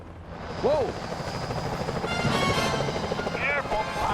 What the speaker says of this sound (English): Those security choppers are bad news.